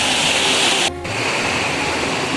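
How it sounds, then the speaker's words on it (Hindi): A mountain waterfall on the rainy Kedarnath trek roars loud and close, a dense, steady rush of water broken by one brief dip and a short mechanical buzz before the roar returns. "तो झरना हम क्रॉस करेंगे।"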